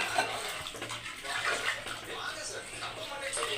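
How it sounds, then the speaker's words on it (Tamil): Steady rush of water pouring into a pot of mutton curry, continuous and close, with a low hum running underneath. "அதனால் நான் கொஞ்சம் எக்ஸ்ட்ரா தண்ணி ஊற்றிக்கிறேன்."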